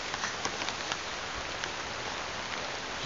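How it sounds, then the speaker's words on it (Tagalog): Heavy rain pours steadily in a dense, loud wash of drops on surfaces, with no voices and a few sharper splashes standing out. "Sobrang ulan ngayon."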